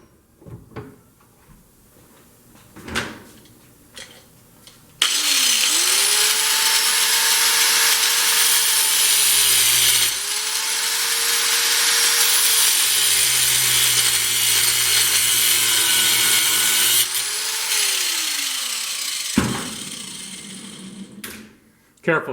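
A KLR650 clutch arm clamped in a vise is cut with a power saw, a loud continuous grinding whine running about twelve seconds with a brief dip partway, preceded and followed by quieter handling noises and some talk.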